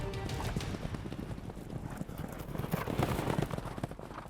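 Horses' hooves clip-clop in a dense, continuous patter as Kok Boru riders warm up their mounts on the field, with loud, busy trampling throughout.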